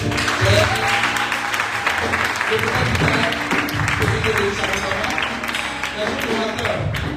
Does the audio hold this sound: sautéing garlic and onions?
no